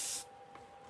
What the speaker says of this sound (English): I'm going to spray over the stencil again